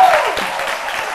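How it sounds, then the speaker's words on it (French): A short burst of applause from a crowd, steady clapping that stays fairly loud throughout. "Chef Lazare, que je vous demande d'applaudir."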